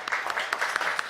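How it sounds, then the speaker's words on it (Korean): A congregation claps at a New Year's Eve church service: a brief, brisk burst of dense hand claps from a gathered crowd, moderately loud and close, with no talking over it. "우리 박수 한번 치고"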